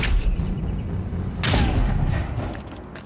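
Gunfire from a wizard's gun in the fantasy game Avowed, a dense rapid volley of loud blasts booming close up, surging again midway, then tapering off with a faint high ring.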